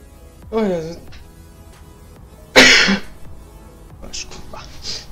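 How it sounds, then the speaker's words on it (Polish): A single harsh cough bursts out near the microphone, loud and brief, with a softer vocal sound just before it and faint breathy noises after. "Sorry za ten kaszel"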